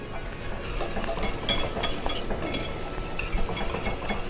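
A spoon stirs red pepper Parmesan Alfredo sauce in a pan, giving soft, continuous swishing with occasional light clinks of metal against the pan over a faint simmer, close and without talk.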